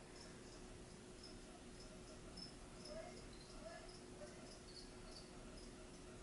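Crickets kept in a chameleon's cage chirp faintly in a quiet room, small repeated high trills pulsing steadily over a low background hum.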